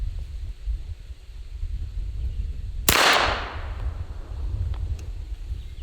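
A Tommy gun fires a single hollow-point round into a ballistic dummy head: one sharp, loud crack with a short ringing decay, set against a steady low background rumble.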